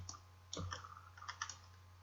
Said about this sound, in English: if you hold Control on your keyboard and press 8